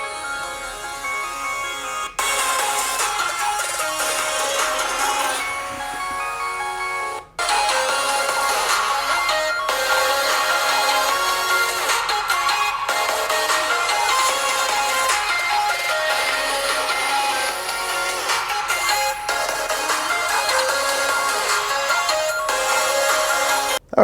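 A Poco F3 phone plays a ringtone through its dual speakers, a loud, continuous, melodic tone that briefly cuts out around a third of the way through and then resumes.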